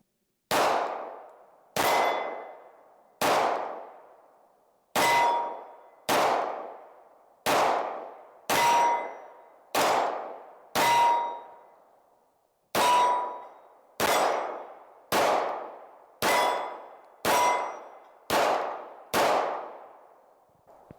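Springfield Armory XD Mod 3 pistol rounds striking steel targets, a string of about fifteen sharp ringing clangs at a steady pace with short decaying tails, one longer pause partway through, no talking.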